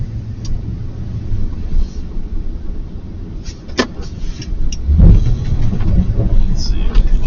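A truck engine rumbles low and steady as it pushes a snow pile, with a heavier surge near the end, occasional knocks and clanks, and a voice talking over it.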